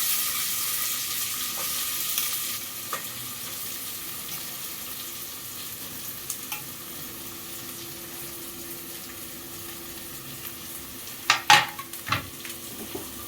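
Sliced onions with a pinch of salt frying in hot oil for a Konaseema-style mutton curry with raw cashews and drumsticks, a faint steady sizzle with occasional stirring clinks and a louder burst of scraping near the end.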